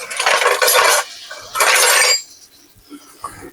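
A pot of ham rattling on a stovetop as it boils hard, giving two loud bursts of clattering metal lid noise and then quieter scattered clinks.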